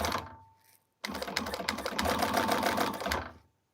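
A sewing machine stitches a quilt in a long, rapid, steady run of needle strokes after a brief pause, close and fairly loud, with no talking over it.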